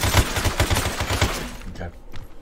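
Gunshots from the aim training game Universal AIM League come as a quick rhythmic string of about a dozen sharp cracks, close and loud, then fade into quieter game sound.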